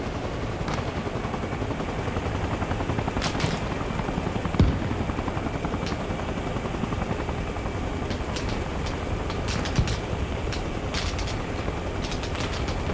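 Constant rotor drone of a helicopter in a video game, with bursts of machine-gun fire crackling through it at intervals and no talking over it.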